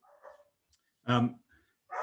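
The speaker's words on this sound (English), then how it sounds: "Apologies for the dog and the noise in the background." A dog barks a few sharp, separate times in a home during an online webinar, the barks fairly close and loud between stretches of quiet.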